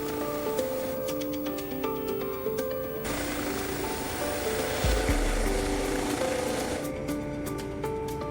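An air ambulance helicopter lifting off at a countryside crash scene gives a steady, fairly loud turbine whine and droning rotor hum that swells and shifts as it rises, with no talk over it.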